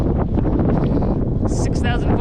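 Wind buffets a microphone during a bicycle climb of Mauna Kea, a loud, rumbling low roar of gusts that dominates the short moment, with brief higher hissing toward the end.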